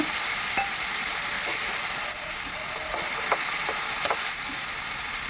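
A paste of ground dried chili, cumin and coriander sizzles in a pan after a splash of water, a steady hiss broken by a few soft scrapes and bubbling pops, close by and without speech.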